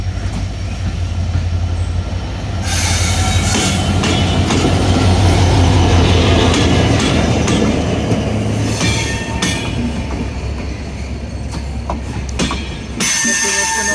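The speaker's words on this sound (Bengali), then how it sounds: "দেখতে পাচ্ছেন চিত্রা এক্সপ্রেস চলে আসছে।" A Chitra Express passenger train rolls into a station, its wheels clattering and squealing loudly for several seconds over a steady rumble, then easing as it slows.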